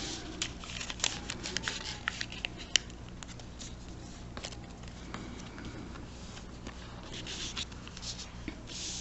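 Paper being folded and creased by hand while making an origami star basket, with soft rustling, scraping strokes and small crinkly taps running steadily throughout, quiet and close.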